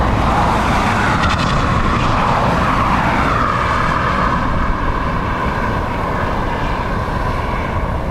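A British Airways jet arriving from London Heathrow lands at Dublin Airport in a stormy crosswind, a loud, continuous engine roar mixed with wind rush and a brief rising whine, with no voices.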